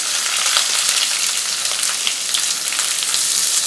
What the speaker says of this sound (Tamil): இப்போ கருவேப்பிலை வெங்காயம் பச்சை மிளகாய் வரமிளகாய் இதையும் நம்ம போட்டு தாளிச்சு தாளிச்சுக்கலாம்